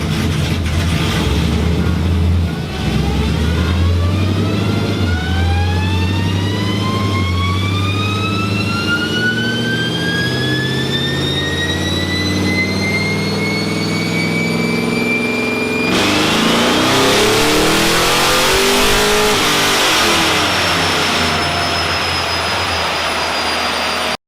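A 2013 Camaro engine revs hard on a dyno, its pitch climbing steadily through the gears in a loud, continuous sweep, then dropping into a rough, fluctuating roar near the end, with no talking.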